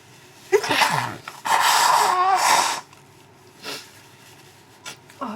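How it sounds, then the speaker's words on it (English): A person sneezes loudly and close by, in two bursts about a second apart, followed by a snort or sniff and breathy noises. "Normally when I get up I stop sneezing, but obviously not today"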